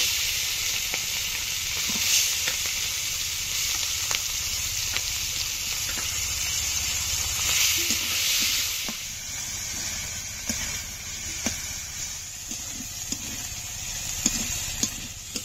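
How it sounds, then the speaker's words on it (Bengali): Fish frying in hot oil in a kadai, a steady loud sizzle and hiss that runs throughout, dotted with sharp pops and spatters, close by and without speech. "তেল গরম হয়ে গেছে, এখন মাছগুলো দিয়ে দেব।"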